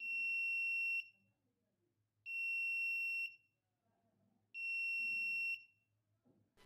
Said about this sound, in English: When the power is cut off or the voltage falls below 150 volt AC, the onboard buzzer is activated.